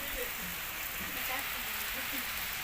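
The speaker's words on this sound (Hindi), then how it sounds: "दोस्तों बारिश दे तराटे शुरू थी गए तूफानी बारिश शुरू" Heavy stormy rain pours down in a dense, continuous hiss on surfaces, steady and loud for the whole stretch, with faint muffled voices mixed in beneath the downpour.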